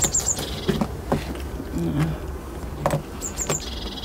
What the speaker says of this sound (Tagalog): Ang mga ibon lang maingay sa umaga dito.